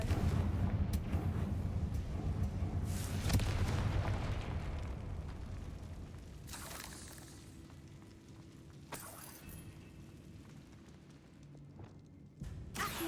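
A Confringo spell blast in Hogwarts Legacy booms out as a loud fiery explosion with crackling bursts, then a rumbling tail that fades over several seconds, followed by smaller pops and impacts.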